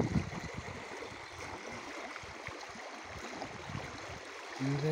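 The Răut river runs fast through a narrowed channel beside a small island, giving a steady broadband rush and gurgle of flowing water close by, continuous and even throughout with no talking.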